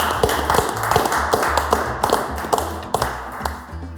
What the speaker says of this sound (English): Can we get a clap for these guys real quick for being on the show?